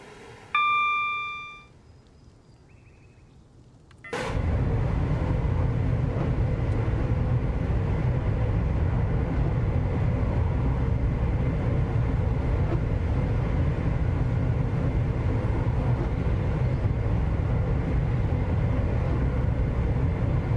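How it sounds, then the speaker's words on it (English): A high electronic chime sounds briefly, then a train in Train Sim World 5, driven through England in summer, settles into a loud, steady cab rumble that continues unbroken. "You're driving a train in England in summer, clearly"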